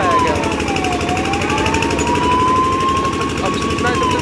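A fire engine siren wails continuously at a large fire in Gopalganj, a loud rising and falling tone that holds throughout over engine rumble, with other siren sounds near and steady.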